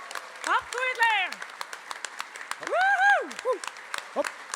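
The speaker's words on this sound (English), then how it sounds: "can we give a huge round of applause to Senan Lillis for being such an amazing MC?" A concert audience at Fleadh 2024 applauds the MC with dense, continuous clapping, topped by loud rising whoops and cheers from nearby voices.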